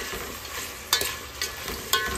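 Vegetables being stirred into rice in a pan for veg pulao, with a steady frying sizzle under a few soft scraping strokes of a spoon, close and alone.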